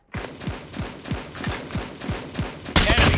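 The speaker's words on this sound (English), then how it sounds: "Sentry gun deployed." Sentry gun in Call of Duty Mobile multiplayer firing a steady burst of about eight evenly spaced, loud, close shots, ending in a sudden louder blast of noise.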